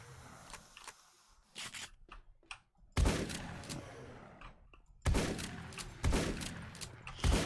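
Shotgun blasts in the 7 Days to Die War3zuk mod: several heavy, booming shots at irregular intervals, with quieter thuds and clatter between them.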